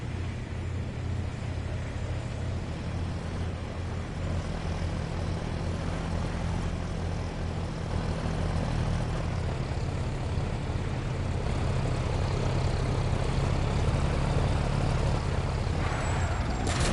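A support helicopter in a video game drones steadily through a continuous, dense rotor and engine roar, loud and unbroken with no speech over it.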